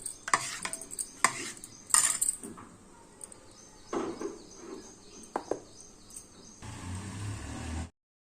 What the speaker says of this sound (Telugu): పెరుగు అనేది చూడండి దీనిలో నేను బియ్యం పిండి కారం అంతా కలిపేస్తాను